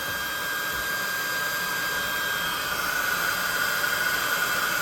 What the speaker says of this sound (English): So let's get our hot air gun.